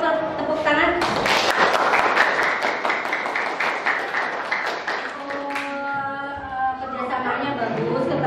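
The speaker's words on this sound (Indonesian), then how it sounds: "Tolong tepuk tangan." A classroom group is applauded: many hands clap briskly and steadily for several seconds, loud and close, with chatter and voices mixed in. The clapping fades into talking.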